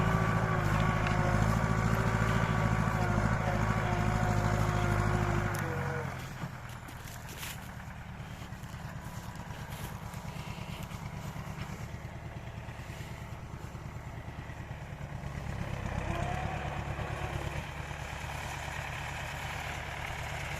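An MTZ-80 tractor's turbocharged diesel engine, pulling a 2.7 m disc harrow, labors loudly at first, then drops to a steadier, lower rumble that swells slightly later on, with no talking.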